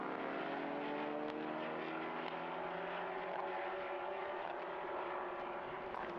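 Endurance prototype race cars on the final lap at Mugello, engines droning steadily as they head into the final corner, a sustained far-off roar with no talk over it.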